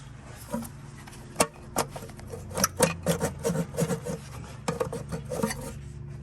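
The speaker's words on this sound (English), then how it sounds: "two 13mm bolts for the starter. And just slide it right out." Starter motor being worked loose and slid out of a GM truck with a 5.3L or 6.2L V8, giving a series of close metallic scrapes, clunks and rasping rubs spread irregularly across the clip.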